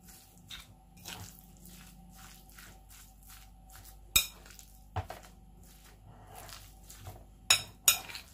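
A spoon stirs chopped vegetables and turkey together in a bowl for turkey and vegetable croquettes, giving soft, wet squishing scrapes throughout, with a few sharp clinks of the spoon against the bowl near the end.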